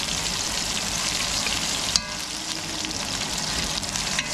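Onions sauté in a hot pan, giving a loud steady sizzle close up, with one sharp clink of a stirring utensil partway through and no talking.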